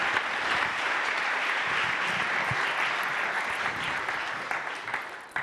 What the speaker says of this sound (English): I heard cheering in the crowd